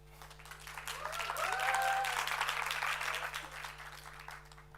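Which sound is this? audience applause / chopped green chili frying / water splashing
audience applause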